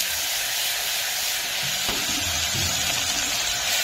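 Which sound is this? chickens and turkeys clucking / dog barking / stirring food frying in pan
stirring food frying in pan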